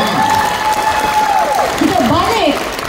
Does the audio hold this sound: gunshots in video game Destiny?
no